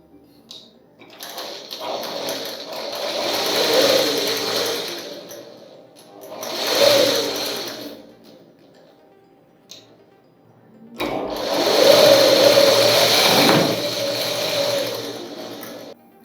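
Sewing machine stitching a fabric opening in a tailoring class, running in three bursts: a long run, a short one, then a steady stretch to the end, each ending in quiet pauses.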